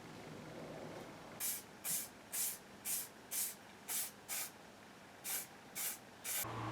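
Clear lacquer is sprayed in about ten short, evenly spaced hissing bursts from a spray can, fairly close, over a low background hum, with no talking.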